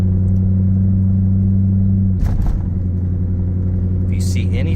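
A cammed 1998 Chevrolet Corvette with an LSX engine on E85 rumbling steadily at idle, a loud, close, deep lopey drone with a brief burst of clatter midway.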